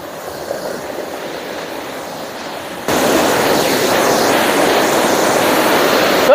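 Rushing water of Taglinao waterfall, a steady broadband roar that grows louder halfway through as the falls come closer, with no voices.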